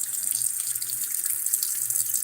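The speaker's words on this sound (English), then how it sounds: "Hear that water running?" Water runs steadily from a tap, a constant hissing splash with no pauses, close and fairly loud throughout.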